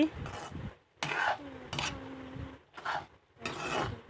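Maggi noodles get stirred in a pan with a utensil, several short scraping, rasping strokes with pauses between them, close and fairly quiet.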